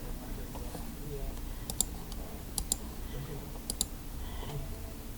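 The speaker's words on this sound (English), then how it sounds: "I'm going to type in capital letters Emily," Keys tapped on a computer keyboard while entering capital letters in picture software, a few sharp separate clicks in small clusters over a low background hum.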